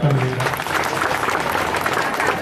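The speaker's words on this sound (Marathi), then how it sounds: "जोरात टाळ्या वाजवायचे" An audience at a ward-level public outreach event with a local legislator in Solapur breaks into loud, dense clapping that fills the whole moment, with voices mixed into it.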